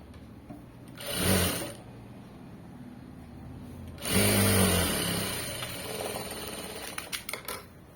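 Sewing machine stitching fabric lining in two bursts, a short one and a longer run that tapers off, close and loud, ending in a few sharp clicks, with no talking.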